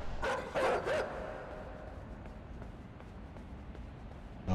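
Dogs barking in the video game Inside: a quick burst of a few barks and yelps at the start, moderately loud, then fading into a quiet low rumble of game ambience.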